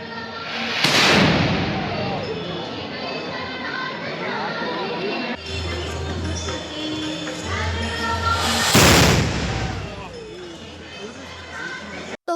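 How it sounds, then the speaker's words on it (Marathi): Two heavy booming ceremonial cannon salute blasts ring out several seconds apart at the Ambabai temple at the start of Navratri, sharp and loud over a murmuring crowd and voices, each leaving a rumbling tail. "प्रथा परंपरेनुसार अंबाबाई मंदिरात तोफेची सलामी देण्यात आली आहे"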